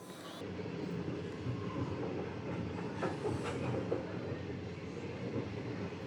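A passenger train crossing China toward Lhasa, heard from inside the carriage: a steady rumble of wheels on rails with faint clicks and squeaks, continuous throughout.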